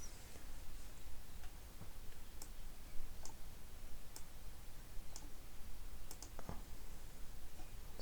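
Sparse computer mouse clicks during website theme setup, a few isolated sharp ticks spread over a steady low background hum, quiet and close, with no talking.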